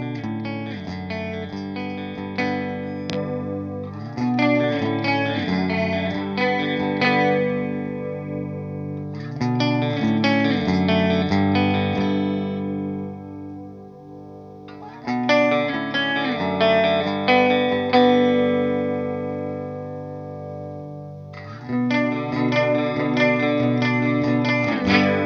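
Guitar run through a Zander Circuitry Junipero multi-modulation pedal, played alone in loud sustained phrases with chorus, echo and distortion-tinged modulation, pausing briefly between four or five swelling passages.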